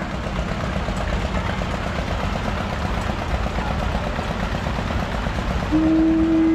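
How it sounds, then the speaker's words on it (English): An antique 1941 Kings ST kerosene tractor runs at a steam power show parade in Sycamore, Illinois, its engine a steady, loud, low chugging rumble, with a brief tonal whine rising near the end. "Here's a great example of a great kerosene tractor. This is the 1941 Kings ST."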